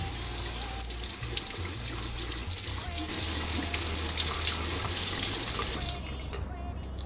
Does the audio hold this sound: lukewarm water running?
yes